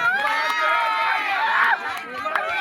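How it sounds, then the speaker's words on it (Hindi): Loud, steady applause from a crowd of students at a school farewell ceremony, sustained throughout with a lively chattering crowd mixed in. "जोरदार तालियां।"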